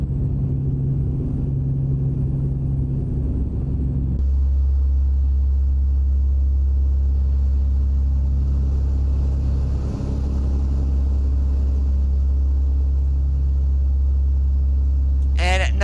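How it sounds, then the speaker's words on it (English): The exterior engine of a Kenworth K-100E water tanker truck in American Truck Simulator gives a loud, continuous low rumble that shifts to a deeper drone after a few seconds and holds steady. "now the outside sound on this engine, it does sound a little bit weird, not like the interior sounds"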